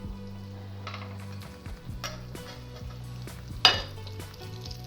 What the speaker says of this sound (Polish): I tak smażymy dotąd, aż jajko będzie gotowe.